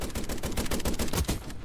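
Fast, repeated gunfire in a shotguns-only video game match, a dense run of sharp blasts packed closely together, loud and continuous without any talking.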